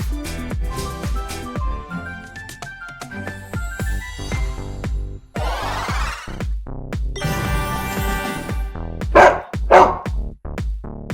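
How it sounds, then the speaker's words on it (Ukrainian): A dog barks repeatedly in quick, loud bursts over a bright, bouncy musical backing, close and prominent throughout. "Це собака."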